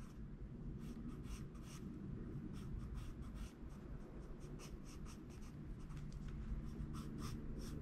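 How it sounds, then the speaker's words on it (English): A black drawing pencil scratches across paper while sketching animation poses, making a continuous close, soft rasping of quick repeated strokes with no voices. "you can hear the pencil hitting"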